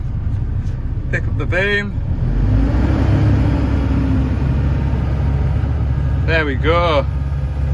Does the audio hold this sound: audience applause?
no